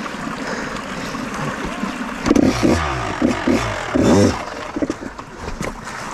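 A KTM 250 dirt bike rides through a creek on a trail, its engine rising and falling in several loud revving bursts over a constant rush of flowing water.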